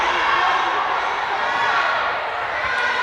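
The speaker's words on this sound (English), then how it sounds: "The crowd here wants it to be out." A high school volleyball crowd in a gym reacts to a disputed line call with a sustained, dense murmur and shouting that holds steady throughout.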